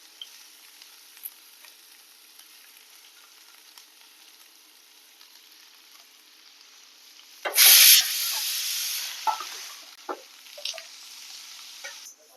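A sudden loud sizzle erupts as finely chopped onions hit hot oil in a pan, then settles into a steady frying hiss with occasional stirring clinks.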